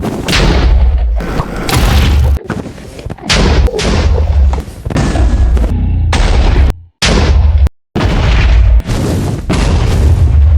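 End crystals exploding one after another in Minecraft after being shot by a skeleton, a rapid string of loud booming blasts with brief silent gaps between bursts.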